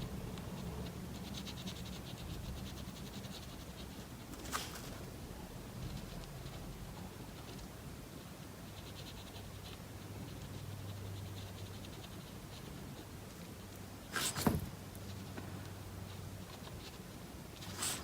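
A pencil sketches eyes on a paper apple corner bookmark with soft, steady scratching close by, broken by a couple of brief taps.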